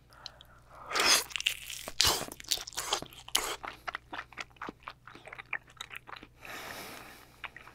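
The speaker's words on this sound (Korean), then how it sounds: "중뱃살도 한번 먹어볼게요" Medium-fatty tuna sashimi dabbed with wasabi being chewed up close, a loud bite followed by steady moist crunching and mastication with no talk.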